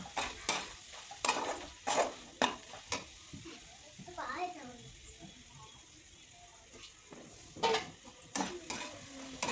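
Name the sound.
frying coconut filling on low heat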